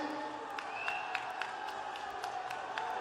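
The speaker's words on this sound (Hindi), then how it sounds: "ताली बजाओ" Crowd applause at a BJP election rally in Haryana, steady clapping and cheering from a large gathering, moderately loud and continuous with a few sharper claps standing out.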